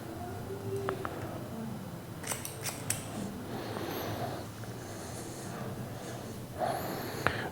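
Scissors snip hair during a V-shaped fade haircut, giving a few sharp, close metallic cuts in small bursts over a steady low background hum.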